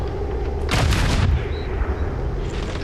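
A gunshot in XCOM 2 rings out as one loud, close blast with a short rumbling tail, followed by quieter game ambience.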